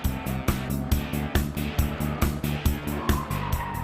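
A VW Beetle with sport suspension laps a race track, its engine note rising and falling in loud, regular pulses with tyre noise through repeated gear changes and corners.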